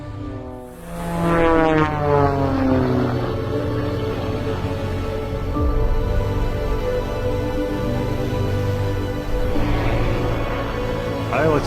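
A propeller airplane flying aerobatics drones overhead, its engine pitch sweeping up and down as it maneuvers, fairly loud and steady throughout.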